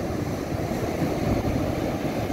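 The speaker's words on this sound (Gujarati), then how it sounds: "મોજા અહીંયા સુધી આવી ગયા છે ને પાણી ભરી ગયું" Sea waves surge onto a shore, a dense continuous roar of rushing water that stays loud and even throughout, with no voices over it.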